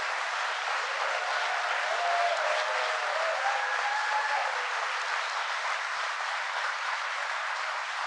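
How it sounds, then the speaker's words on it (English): Applause for the site workers at IBM Poughkeepsie rolls on as an even, fairly distant wash of clapping from a large crowd, steady throughout with faint tonal whistles above it. "So if you would all give a round of applause to all of the people who work at the site."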